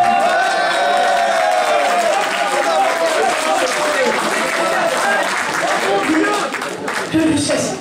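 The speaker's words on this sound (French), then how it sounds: "Et vous applaudissez à la fin des 5." A crowd at a role-playing game convention award ceremony gives sustained, loud applause for prize winners, with some cheering and voices mixed into the steady clapping.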